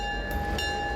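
A late-1950s EMD GP9 two-cycle diesel locomotive of 1,500 horsepower rumbles steadily on the Naugatuck Railroad, a loud low drone with a tonal whine and faint brief hisses.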